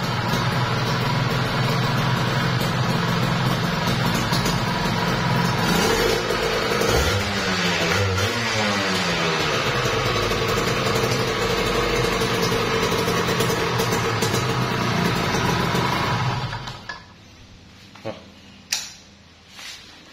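A Kawasaki Ninja RR two-stroke motorcycle engine runs at a steady idle, loud and close, with a brief rising rev midway, then cuts off abruptly near the end, leaving a few faint knocks.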